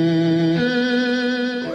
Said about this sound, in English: there's the fuzz box, which sounds like this